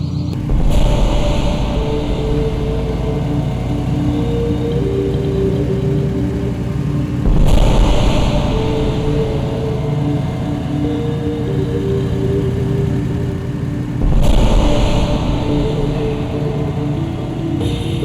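A car engine runs steadily with a low rumble at close range, swelling briefly in a few slow surges as it drives on, with no voices over it.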